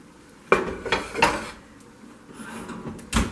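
Clanking of a metal baking pan holding a vegetable galette being pulled from a home oven, a few sharp clatters and knocks spaced over a few seconds, close and fairly loud.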